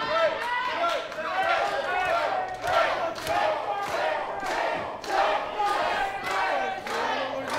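Crowd at an IZW professional wrestling show cheering and chanting in a rhythmic pattern for Drake Gallows, loud, roughly evenly spaced bursts of voices with stomping or clapping beneath, continuing throughout.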